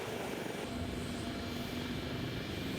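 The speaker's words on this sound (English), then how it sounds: "the Falcon Jet accelerates down the runway, hitting 150 miles an hour before takeoff." Falcon business jet on the runway, a steady broad engine roar with a faint whining tone, held at an even, moderate level throughout.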